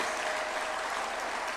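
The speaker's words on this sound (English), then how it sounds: "Can we a round of applause for these people?" Dense applause fills the room at a judges' swearing-in ceremony at State House, Nairobi, a short burst of steady, continuous clapping from a gathered audience.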